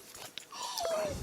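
A pet dog whimpers with a faint, thin, rising-then-falling whine near the end, after soft shuffling and scratching noises indoors, fairly quiet and close.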